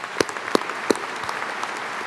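Audience at a university convocation claps in a sparse, scattered way, with a few loud close claps standing out over a thin background of distant applause.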